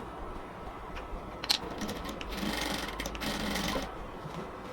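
Sewing machine stitching a ladies' salwar: a soft, steady, low-level mechanical whir runs throughout, with a few brief clicks and a slight swell toward the end.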